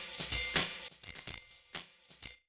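A drum break run through a saturator, with punchy, distorted hits and bright crashes in an irregular, choppy rhythm, loud and up close with no voices.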